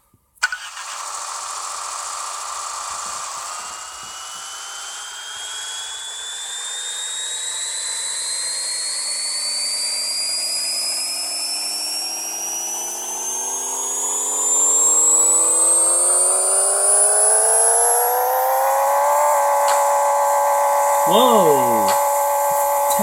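A modified Mazda RX-7 FD3S rotary engine in Pixel Car Racer revs on a dyno, its synthetic whine climbing steadily toward 10,000 rpm over about twenty seconds, then holding high before a brief falling blip, loud and continuous without talk.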